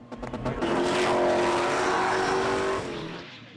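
A car spins through high-speed skids and donut stunts at a South African motorsport event, with a loud sustained engine roar and screeching tires over about three seconds before fading.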